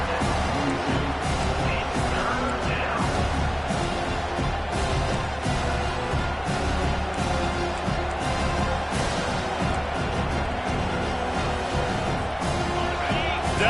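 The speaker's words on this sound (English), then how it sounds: "Decibels rising as the crowd gets behind this defense on third down." Steady roar of a stadium crowd at a college football video game, a dense continuous wash of noise building on third down, with a commentator talking over it throughout.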